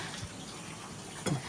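Water scooped with a ladle, faint and quiet over low background noise, with a short splashing burst near the end and another at the very close.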